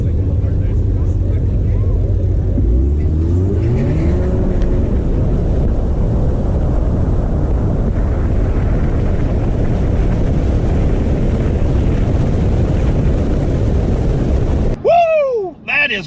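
A modified Ford EcoBoost car making a drag strip pass, its engine note climbing through gear shifts into a loud, sustained roar heavy with wind buffeting, then cut off abruptly as excited voices break in at the end.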